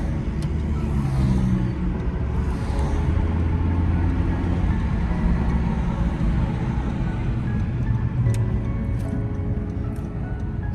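A 2017 Honda Civic Hatchback EX accelerates hard with its tires pushed toward losing traction, producing a steady, loud engine and road rumble that continues without a break, heard from inside the car, with a few faint clicks.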